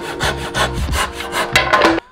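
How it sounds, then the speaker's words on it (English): Rough-sawn wood boards for a surfboard build feed through a planer, giving a loud, close, rhythmic run of rasping, scraping strokes that stops abruptly near the end, with no talking. "I'm gonna run them through the planer to take care of this last little bit of rough sawn surface."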